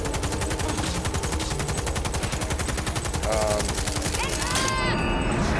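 Rapid automatic gunfire in the video game Cyberpunk 2077, a loud continuous stream of close shots in even rhythm throughout, with brief voice fragments over it near the end.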